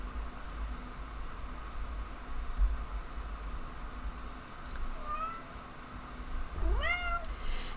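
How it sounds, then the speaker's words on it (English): A pet cat lets out a couple of short meows, one faint and one nearer and clearer a moment later, over a quiet room hum with low background noise. "And here's my cat again."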